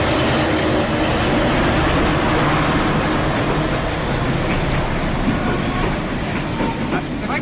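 A train rumbles past close by in Vietnam, steady and loud throughout, with rhythmic clatter of wheels over rail joints.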